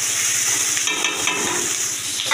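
Onions frying in a pan, a steady hissing sizzle that runs close and continuous throughout, with faint shifts as the pieces settle in the hot oil.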